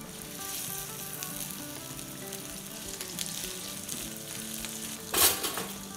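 Hash browns sizzling and frying in a pan over medium-high heat, giving a continuous crackling hiss with a sharp burst of spattering near the end.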